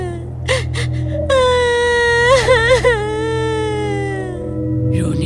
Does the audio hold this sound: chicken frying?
no